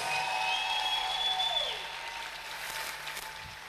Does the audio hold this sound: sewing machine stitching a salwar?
no